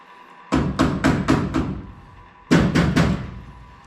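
A tape-wrapped hammer taps pins into new weather stripping on a 1970 Monte Carlo: five quick, close, sharp knocks, a short pause, then three more.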